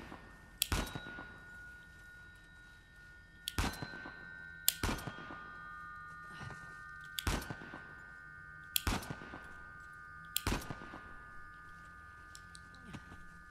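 Machine gun fire striking metal bells in the action game Uncharted: The Lost Legacy, six sharp impacts spaced a couple of seconds apart, each leaving a ringing metallic tone that lingers and overlaps.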